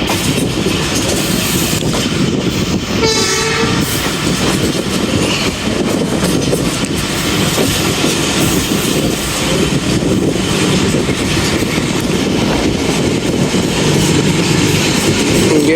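Jaffar Express passenger train running on the rails between Attock and Lahore, a steady loud rumble of wheels and carriages with rhythmic clatter, heard close from on board.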